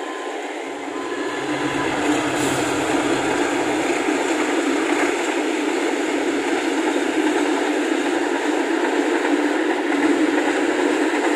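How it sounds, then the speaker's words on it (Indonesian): A fuel tanker freight train, KA 2607, rumbles past close by, a loud, steady roar of wheels on rails that builds in the first seconds and continues throughout. "kita rekam dulu kereta api ketelnya melintas di sini"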